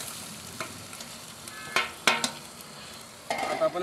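Grated coconut and tomato paste hit very hot oil for a crab curry, giving a steady close sizzle broken by several sharp spitting bursts and stirring clatters.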